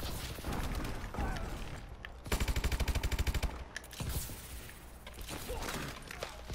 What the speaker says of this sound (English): I bet I could snipe somebody with this gun.